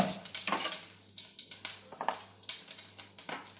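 Mustard seeds and garlic tempering in hot oil in a home kitchen, with steady crackling sizzle, sharp seed pops and intermittent stirring clinks against the pan.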